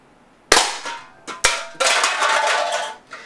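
Powerful paintball gun firing at about 287 FPS at a pair of metal cans: a sharp close shot, then a few more pops, each followed by a sustained metallic ringing and clatter, loud and without voices.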